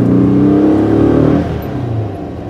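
Engine of a GWD German Look 1303 car revving with a loud, deep droning note that holds steady and then drops back to a lower idle-like hum about halfway through.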